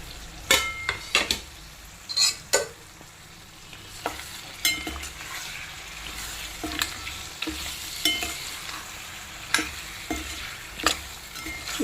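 Mutton in masala gravy sizzles and fries in a pan while a spoon stirs it, giving repeated scraping, clanking strokes in irregular bursts over a continuous low bubbling hiss, close and fairly loud, with no talking.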